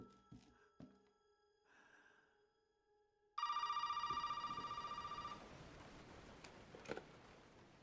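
A phone rings in Resident Evil 7: a bright, loud electronic ring begins suddenly mid-clip and trills for about two seconds, then fades into game ambience with scattered thuds and soft breaths before it.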